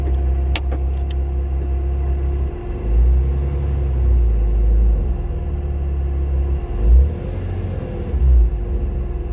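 A stuck Porsche's engine runs in first gear, a steady low rumble with a few swelling revs that rise and fall, close and loud with no talking.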